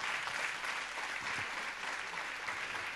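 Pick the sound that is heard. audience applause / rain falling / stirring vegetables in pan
audience applause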